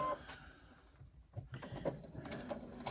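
A sewing machine runs a 3/8 inch seam through the top of a pocket and its joined exterior piece, giving a quiet, fairly continuous mechanical whir with small clicks and light handling noises close by.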